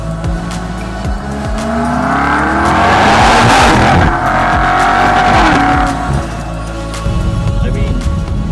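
A 2020 BMW M8 revs hard to high RPM, the engine note climbing and swelling loud before easing off, with a rough roaring texture throughout and no talk.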